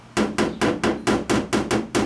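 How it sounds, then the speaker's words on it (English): A body hammer taps down high spots on a car body panel of an AE86 Trueno, giving eight evenly spaced, sharp, loud metallic knocks in a steady rhythm. "I've already kind of hammered these high spots down with a body hammer"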